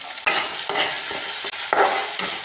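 Flat beans and potatoes frying in a hot pan make a loud, close sizzle broken by several sharp bursts as they are stirred and tossed, with no talking.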